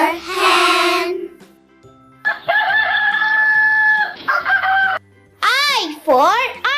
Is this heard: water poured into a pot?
no